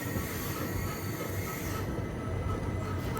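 The Nagarsol Superfast Express (12787) crossing through Khammam station without stopping, a continuous close rumble of rolling rail wheels with faint squeal, steady and loud across the whole stretch.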